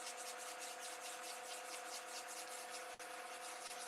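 Sandpaper at 180 grit rubs along a spinning DiamondCast blank on a lathe, a steady, faint hiss with rhythmic swishes as it moves back and forth, over a constant motor hum, with one brief dropout near the end.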